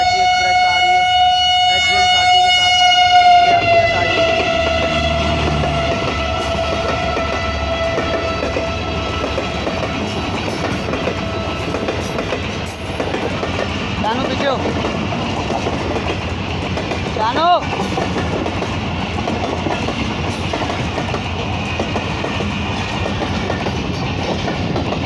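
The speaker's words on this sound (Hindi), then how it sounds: "सामने से 15 अब कराची एक्सप्रेस आ रही है" The Karachi Express (15 Up) arrives at Digh Road station: a loud sustained horn opens, then a heavy, continuous rumble and clatter of the passing train with steady wheel noise.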